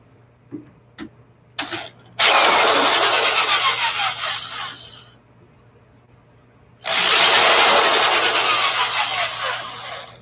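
Power screwdriver backing small screws out of the cover of a Cisco ASA 5550 and Nexus 3048TP network device, a few short ticks and bursts, then two loud sustained whirring runs separated by a quiet pause.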